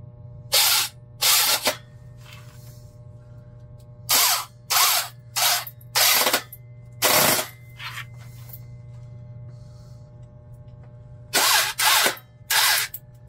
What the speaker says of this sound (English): That's a good drill.